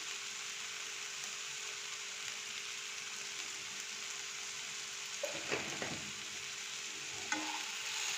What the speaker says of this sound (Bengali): এবার আরেকটু ভালো করে নেড়ে দেবো।